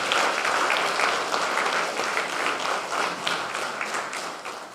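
An audience at a pensioners' choir gathering in Vuzenica, Slovenia claps steadily, a dense even wash of many hands applauding for nearly five seconds before starting to fade.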